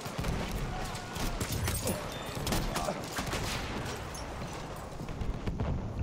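Dense, continuous gunfire and explosions from a Battlefield 1 Conquest match on the St Quentin Scar map, shotgun blasts among them, with a steady rattle of shots layered over a battlefield roar and some voice nearby.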